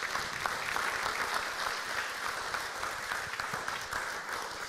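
Sustained audience applause at a city-development lecture event in Leonberg, dense and steady throughout, moderately distant and filling the room with no speech over it.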